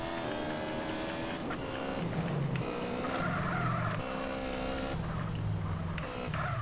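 A motorcycle revs and skids in the GTA San Andreas video game, with a loud, continuous engine drone broken by repeated screeching tire squeals and no talking.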